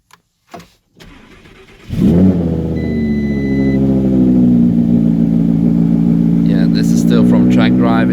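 A Lamborghini Aventador SVJ engine fires up with a loud bark after a door thud, then settles into a strong, steady idle that swells into a rising rev toward the end.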